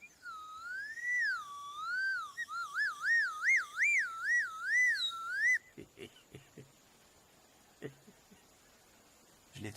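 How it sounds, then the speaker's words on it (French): A person whistles a few wavering, trilling notes, a clear sustained melody rising and falling for several seconds, followed by quieter scattered sounds and pauses. "Avant chaque décision importante, je siffle quelques notes."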